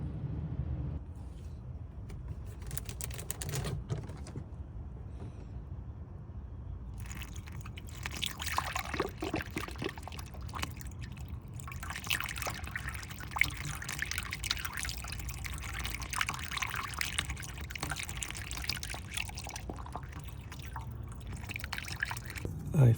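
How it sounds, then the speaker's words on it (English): Distilled water pours and trickles through the radiator of a 2013 Nissan Maxima during a coolant flush, a steady gurgling flow with irregular drips and splashes, fairly close and moderate in level. "I will now flush out the radiator with distilled water"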